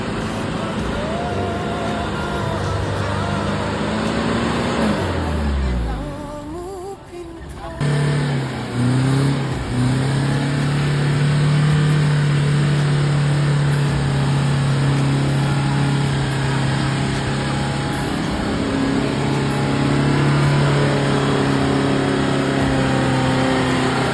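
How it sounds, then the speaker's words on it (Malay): A truck engine revs hard while stuck in slippery flood mud after rain in a village, its pitch rising and holding with a strained drone, close and loud, briefly dipping midway, with people talking in the background. "Sebahagian lori kami yang di depan tu dah sangkut, jadi kami butuh masa sikit untuk kami tolak"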